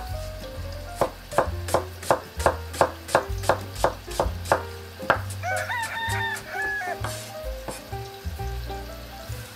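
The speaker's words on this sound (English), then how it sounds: "Garlic, smash and slice." Garlic cloves smashed and sliced with a knife on a board while meatballs cook for marinara sauce: about a dozen crisp, evenly spaced cuts, then a looser stretch of softer knocks over a low background hum.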